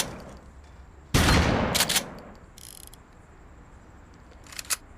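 Gunshots fired into the air in a crime video game: a loud sharp burst, a second quick volley just after, then a fainter crack and a final short pop near the end, with quiet background hum between.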